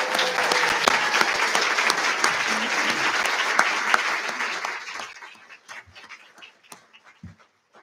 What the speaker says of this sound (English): one more round of applause for our mathematics candidates